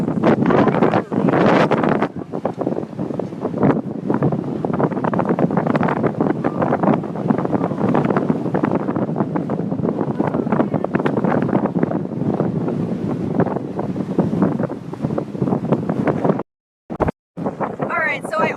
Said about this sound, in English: it looks like there's going to be some crazy winds going on